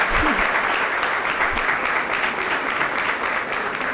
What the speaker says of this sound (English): A louder round of applause to Noshirwan Kayani.